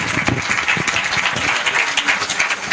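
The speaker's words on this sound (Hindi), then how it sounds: "जोरदार तालियां बजती रहनी चाहिए" Audience applause at the Navratan Samarpan 2025 award ceremony in Noida, a dense, steady patter of many hands clapping together throughout.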